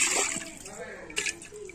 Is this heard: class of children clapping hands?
no